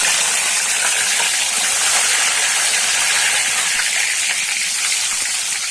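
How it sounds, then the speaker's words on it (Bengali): Cardamom, cinnamon and bay leaves hit hot oil while cooking spiced chicken liver, giving a loud, continuous, even hiss of sizzling with no talk over it. "তেলটা গরম হয়ে গেছে, দিয়ে দিচ্ছি এলাচি, দিয়ে দিচ্ছি দারচিনি, তেজপাতা"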